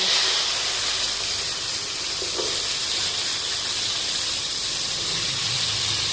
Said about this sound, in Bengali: এই তেলেই এগুলো রান্না করব। আগে ভেজে নিব।